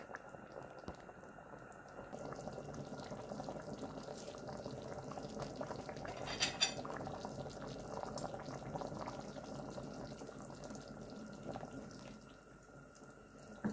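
A pot of tomatoes for sauce bubbling at a steady boil, soft continuous simmering and gurgling with faint kitchen noise, no talking.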